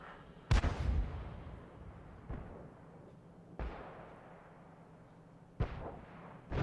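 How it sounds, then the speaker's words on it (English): Tank cannon fire from an M41 HMC and other tanks in a video game battle, four heavy booming shots spaced irregularly, each with a rumbling tail, one close and loud, others more distant. "he's fired the round out, but the Matilda had moved"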